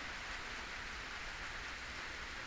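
Steady rain pours down outdoors near a rubber plantation, a continuous dense hiss of drops striking surfaces with no voices or other sounds breaking through.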